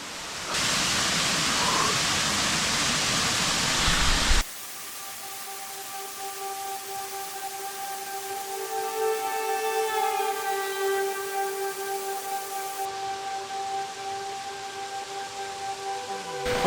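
Giant waterfall deep in the Amazon rainforest of French Guiana, heard first as a loud, close, broadband rush of falling water, then a softer steady roar with ringing insect or bird tones layered over it.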